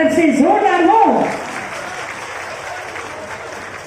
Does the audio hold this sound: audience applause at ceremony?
yes